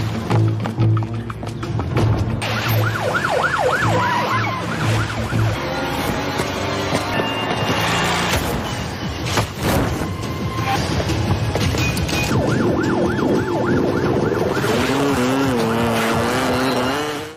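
Police car sirens wail in rising and falling sweeps during a film chase scene, mixed with roaring engines, crashes and dramatic music, loud and close with brief bursts of voices.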